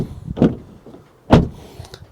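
Door handle of a VW Golf R 8.5 being pulled, two close, somewhat hollow clunks about a second apart, with no other sound.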